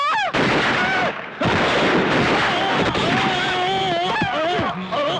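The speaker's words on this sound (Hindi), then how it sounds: "अरे गोली चल रही है" Loud gunfire crackles in bursts while several people shout urgently over it, chaotic and close.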